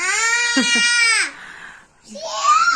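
A young girl bursts into a loud, wailing cry close by, breaking off after about a second into a short whimper, then starting again, during children's play with a new bubble toy.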